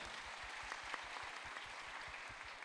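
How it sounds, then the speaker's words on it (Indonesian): Audience applause at a crypto regulation seminar, a steady patter of many hands clapping throughout, heard faint and distant in a large room. "kasih tepuk tangan dulu."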